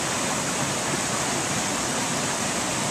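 River water flows steadily around someone standing in it on a February field trip, a broad, continuous rushing wash close by with no speech over it.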